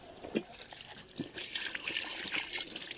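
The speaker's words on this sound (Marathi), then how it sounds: "ह्याच्यावरती आपण पाणी टाकून बघूया" Water is poured and splashes onto a blackened metal pot bottom, a soft continuous trickle with small splashes, fairly quiet and close.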